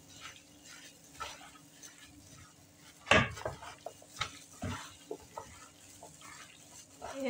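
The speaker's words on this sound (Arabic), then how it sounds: "هننزلها كده وبعدين نقلبها كلها مع البصل والخليط اللي احنا حاطينه له كله مع بعضه كده" Chicken pieces stirred into an onion and spice mixture in a pan, with soft scraping and a sharp utensil knock against the pan, followed by scattered clinks and light sizzling, close and intermittent.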